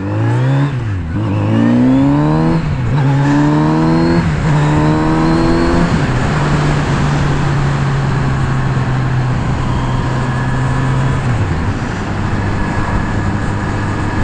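A Kawasaki Z900RS motorcycle engine revs hard and climbs through the gears, the loud close exhaust note rising in several quick pulls before settling into a sustained steady drone.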